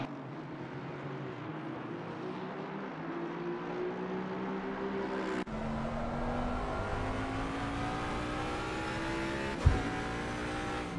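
Race cars lap the Hungaroring in a racing video game, engines droning loudly and steadily with rising and falling pitch as they accelerate, several cars overlapping, and a brief sharp bump near the end.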